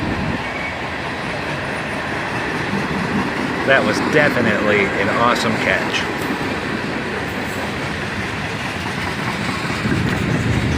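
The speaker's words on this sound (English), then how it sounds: "they are wasting no time in getting this train moving" A freight train led by an SD50-3 locomotive, with an AC44CW in the YN2 paint scheme trailing, accelerates past in Carlisle, a steady loud rumble with metallic clatter and squeal while a person talks over it.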